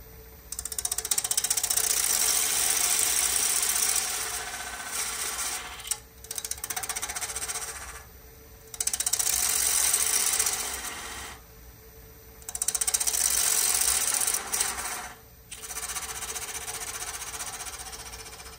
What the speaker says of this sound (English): First thing we're going to do is we're going to turn a tenon right here on this side.